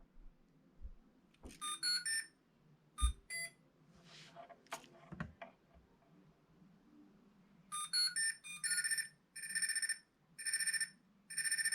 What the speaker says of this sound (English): Those are the motors making the sound for the speed controller, so they're connected at least.